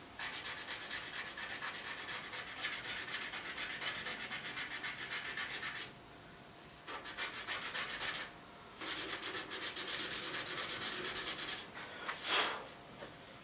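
Close, dry scraping strokes of a tool working paint off a surface, repeated rhythmic rasping in bursts with short pauses, no speech.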